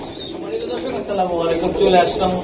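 Several Budapest pigeons cooing close by at a pigeon farm in low, throaty, rolling calls, continuous throughout, with human voices mixed in.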